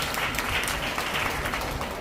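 A church congregation claps together in a steady, fairly loud burst of applause with some audible individual hand strikes, lasting the full two seconds with no clear talk over it.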